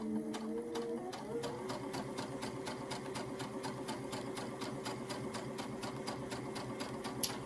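An embroidery machine stitches a patchwork autumn maple leaf table runner with a fast, even, rapid stitching rhythm and a steady motor hum, continuous and close throughout.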